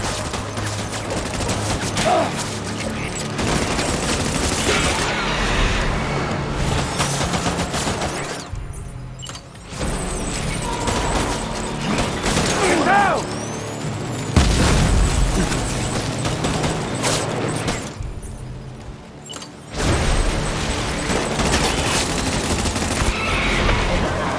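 Dense gunfire and explosions in the video game Death Stranding roar loudly and almost continuously, with bursts of rapid fire and booms and only a couple of short lulls.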